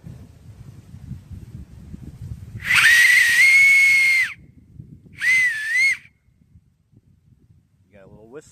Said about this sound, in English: You got a little whistle.